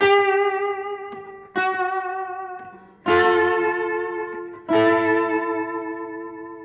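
Electric guitar sounding four ringing two-note double stops for a rockabilly tone, each struck then left to sustain and decay with a slight Bigsby vibrato waver.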